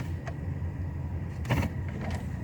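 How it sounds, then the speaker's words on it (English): A car's electric power windows whir upward inside a vehicle out on a chilly day, a faint motor hum under steady road and engine rumble, with a brief louder swell midway. "Roll the windows up."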